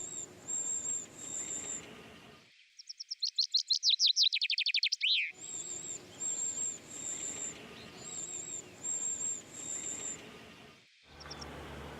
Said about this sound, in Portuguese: A carriça, a terceira ave mais pequena da Europa, tem crias para cuidar.